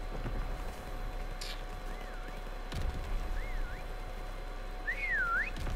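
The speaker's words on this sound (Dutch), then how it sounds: "Nou, nu ben ik lekker aan het fluiten." A few short, wavering whistled phrases rise and fall, soft and spaced apart over a quiet background hum, growing a little louder at the end.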